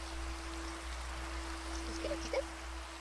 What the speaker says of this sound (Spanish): Creo que deberíamos de quitar la lluvia.